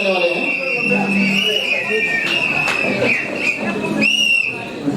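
Crowd at a recognition program at LDP Ramnagar cheering with loud sharp whistles and clapping over a busy hubbub of voices, whistles rising repeatedly throughout, with people talking amid the noise.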